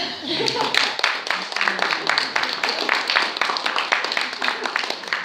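Audience clapping in a church after remarks about the church and South Africa, a moderately dense round of handclaps holding steady throughout, with some voices mixed in.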